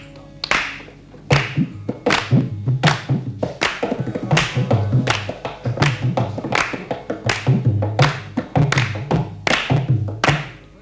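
Hand clapping in a steady rhythmic pattern, sharp loud claps repeating at regular intervals with softer thumps between, sustained for several seconds with no talk.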